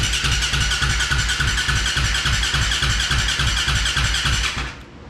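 A KTM engine fitted in a Honda TRX450R quad fires up for the first time, a loud rapid chugging run held steady for several seconds before cutting out abruptly.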